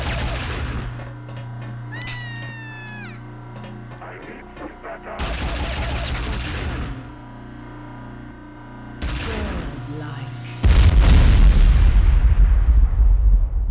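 Power node exploding in Unreal Tournament 2004: a loud, sudden explosion erupts near the end, following stretches of electronic game sounds and weapon-like bursts.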